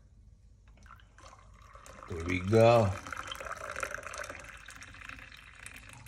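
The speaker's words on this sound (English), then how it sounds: "Add my water." Hot water is poured into a mug for a Jamaican breakfast, making a short, gurgling fill that swells briefly and then fades into a quiet trickle, with a person speaking softly nearby.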